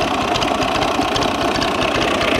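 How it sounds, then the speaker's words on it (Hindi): A 1996 Massey Ferguson MF 240 tractor's diesel engine idles steadily and loudly nearby, a continuous rough clatter with no talking over it. "अज तुहानूं एक ट्रैक्टर विखालते हैं 240 MF 240 मॉडल 1996"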